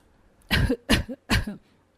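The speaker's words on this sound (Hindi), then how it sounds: "तभी कुसुम के डस्टिंग करने से दोनों को खांसी आ जाती है।" Three quick, close coughs in a row from dust raised by dusting, evenly spaced and fairly loud, against a quiet background.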